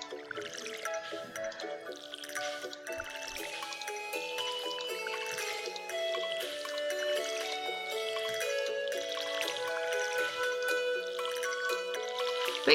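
Watering crops with a watering can in a farming video game, soft pouring and dripping water effects heard over a gentle melodic game music bed that plays throughout, fairly quiet, with no talking.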